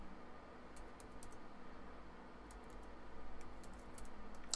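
Keys on a computer keyboard are typed to enter a command, with faint sparse clicks in small clusters over a low background hiss, quiet and without speech.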